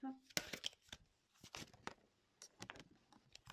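Playing cards being shuffled, with quick crisp bursts of riffling and flicking in short irregular clusters, close and fairly quiet.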